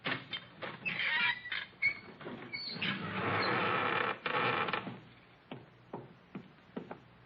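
A creaking door swings open in an old radio drama set in a sheik's room, a drawn-out squealing creak with a few knocks and mechanical clicks, heard alone and up close without talk.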